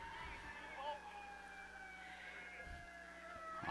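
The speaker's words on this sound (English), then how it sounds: "Looks like we got some ambulance activity headed down 63rd." A distant emergency siren, reported as an ambulance heading down a city street on a Saturday night near a baseball game, wails steadily and faintly under crowd and ballpark ambience.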